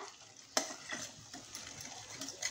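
Spiced ridge gourd being stirred in a pan for a Marathi-style turiya bhaji, with a sharp spoon scrape against the pan, then soft scraping strokes over a faint, quiet sizzle.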